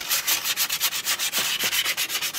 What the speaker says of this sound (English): Now that we have this all sanded down